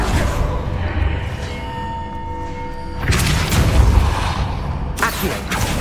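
In the Hogwarts Legacy video game, the Depulso spell is cast, producing a heavy booming blast with a rumbling tail, then a second impact burst over a dense game soundscape.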